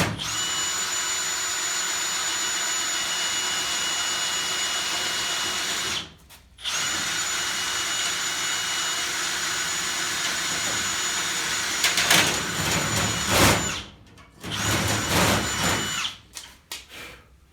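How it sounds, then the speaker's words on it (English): A power drill whines steadily and loudly at close range, stopping briefly twice before grinding on with a harsher, rougher tone near the end. "must be drilling through a piece of railroad iron."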